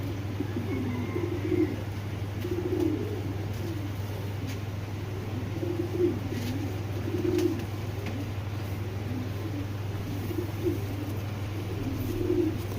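Giribaz pigeons coo in soft, repeated rounded calls at a regular pace, close by, over a steady low background hum.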